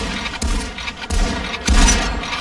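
Sako rifle in the Population One game fired rapidly, three sharp booming shots spaced roughly half a second apart, close and fairly loud, each with a short tail, and no talking.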